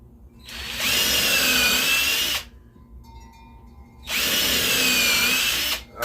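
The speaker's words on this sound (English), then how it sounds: "Then I take my drill, pre-drill the hose" A power drill whirs loudly in two long bursts, pre-drilling into wood, about a second and a half apart, with a quieter pause between them; no talking.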